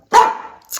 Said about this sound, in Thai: มาเห่าอีกแล้ว